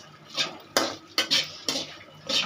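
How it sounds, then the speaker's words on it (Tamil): Curry leaves frying in a pan, heard as a series of about five scraping stirs of a metal spoon against the pan over a faint sizzle, evenly spaced and close, with no talking. "ரெண்டு கருவேப்பிலை, இவ்வளோ போட்டு வறுத்துக்கோங்க."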